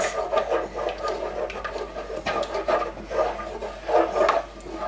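A sauce stirred in a figure-eight pattern in a pan makes soft, rhythmic scraping and rubbing swishes that come in repeated waves, fairly quiet and close, with no talking.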